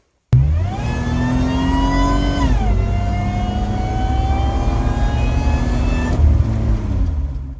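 A supercharged J-series car engine starts abruptly and accelerates hard, pitch rising steadily, then drops at a gear change and climbs again, loud and alone, before dipping once more near the end.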